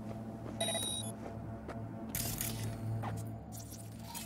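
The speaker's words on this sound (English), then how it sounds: "It's an alarm." An alarm rings in Cyberpunk 2077, a steady electronic tone droning under the game's ambient sounds and sharp bursts of action, with no talking.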